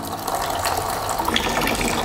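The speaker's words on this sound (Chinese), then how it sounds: "再次将里面的水排出。" Water drains from the open drain valve of a home water dispenser, a steady splashing flow with faint mechanical clicks, close and continuous.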